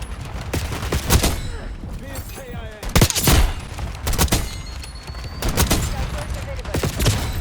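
Call of Duty gameplay brings sharp gunshots in spaced bursts, each a loud broadband crack with some rapid follow-up fire, over continuous game noise and a speaking voice.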